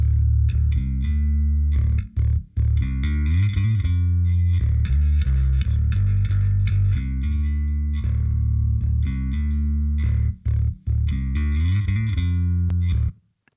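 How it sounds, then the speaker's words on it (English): Layered rock bass guitar tracks with chorus and distortion play a thick, sustained riff of deep notes, with a few brief gaps between phrases. "on the master bus, let's have a listen, both tracks together"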